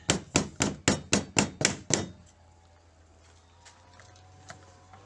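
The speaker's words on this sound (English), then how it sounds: "lining up the beads and tapping them down with a mallet" A glazing mallet taps down beads on a uPVC door panel: eight crisp, evenly spaced knocks in quick succession, close and fairly loud, followed by quiet room tone with a few faint clicks.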